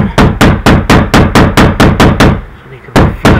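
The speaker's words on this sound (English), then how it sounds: "Hammer them in." A hammer drives pieces in until they sit flush, striking about a dozen loud, sharp blows in a fast, steady rhythm close by, with a brief pause before the last two.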